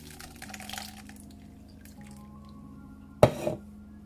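Beetroot juice splashes and drips through a strainer in one brief wet burst near the end, after quiet kitchen background hum.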